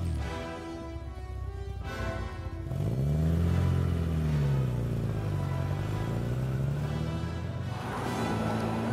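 An Aston Martin DB5 classic 1960s sports car engine idles, then revs up in a smooth swell that rises, holds and falls back, heard close and alone.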